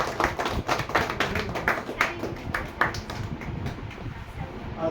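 An audience at a mobile phone repair course graduation program claps, with sharp, distinct claps in a loose rhythm up close that blend into a softer patter, while voices are heard underneath.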